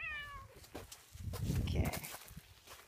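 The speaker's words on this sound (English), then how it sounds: "Put the cat outside of the arena." A cat gives a single short, falling meow near an arena. Close thumping and shuffling footsteps follow, with no talk over it.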